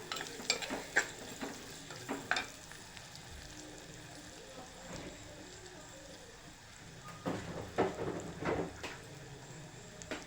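Tomato curry with half a tablespoon of turmeric is stirred in a pan, a quiet low sizzle broken by a few scraping spoon strokes near the start and again toward the end.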